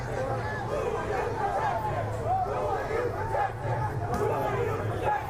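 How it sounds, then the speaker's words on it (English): Dense crowd noise fills a San Diego street protest, a steady wash of many voices talking and shouting at once, loud and continuous with no pauses. "The crowd is getting bigger and bigger."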